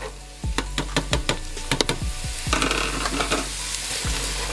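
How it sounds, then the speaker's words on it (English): Red onions drop into a hot pot for turkey noodle soup and burst into a loud sizzle, with a rapid run of clattering spoon knocks and scrapes as they are stirred, close up and with no talking. "Now we're gonna drop in our red onions."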